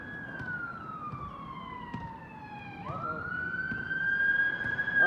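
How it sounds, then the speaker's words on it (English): An ambulance siren passes steadily with a gliding wail that drops in pitch and then jumps back up, carried over low road noise and getting louder toward the end. "I think Mark just took off in the ambulance."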